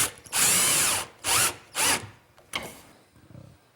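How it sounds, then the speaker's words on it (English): A power drill drives a screw into a wooden face frame for a kitchen island, three loud close bursts of motor whine, the first longest, followed by a quieter short tail and handling noise. "it's just a matter of driving the screw until it's pulled together"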